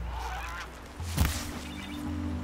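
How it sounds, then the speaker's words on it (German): A goose in Horizon Zero Dawn gives a single loud honk midway, standing out against steady low in-game ambience. "Ach, da ist eine Gans."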